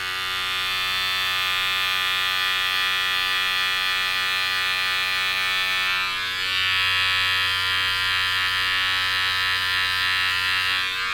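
Electric trimmer buzzing steadily and close while shaping stubble and sideburns, a continuous loud whine that deepens slightly midway as the blades press against the skin.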